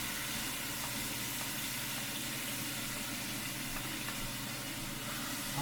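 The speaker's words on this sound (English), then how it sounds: "Now I'm going to saute all this. Yeah, it's hot enough." Vegetables sauté in a hot pan for a home-cooked breakfast, giving a steady, loud, close sizzle with a continuous hiss throughout. A voice speaks a few words briefly over the frying.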